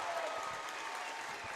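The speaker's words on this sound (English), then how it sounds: "the crowd loves it" Applause and cheering from a high school basketball crowd fill a gym in a steady, distant wash that lasts the whole moment.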